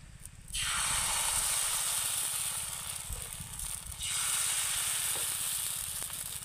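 Batter hitting an oiled hot tawa for thin sheet pitha, a sudden bright sizzle that bursts in loud, fades a little, then surges again as more batter spreads, with a low steady hum underneath.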